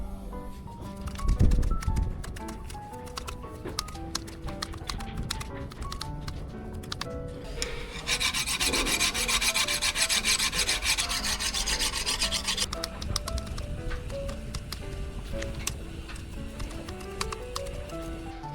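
A dull grass cutter blade is sharpened with a file, giving steady rubbing, rasping strokes close by, with a louder, denser stretch of scraping partway through and no talk.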